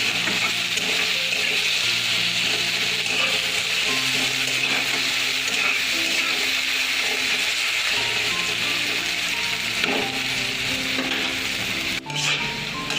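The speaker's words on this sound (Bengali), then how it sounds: "এই তো বন্ধুরা, পেঁয়াজটা আমার ভাজা হয়ে গিয়েছে।" Onion fries in a pan for a cabbage dish, giving a dense, even sizzle close up that runs the whole time, with occasional soft stirring scrapes and no voices.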